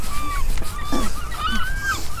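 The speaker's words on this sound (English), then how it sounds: "There's a seagull laughing at Gil." A seagull at a seaside resort calls with repeated squawking, laughing cries over steady outdoor wind and ambient noise, fairly close and loud.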